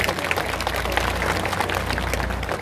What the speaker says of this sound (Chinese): 我们给他们再掌声鼓励一下。